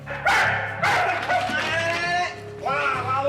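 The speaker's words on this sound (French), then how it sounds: "Arrête ton chien, arrête!" A police dog barks hard during training, loud repeated yelps and barks in quick succession, close up, with someone shouting over them.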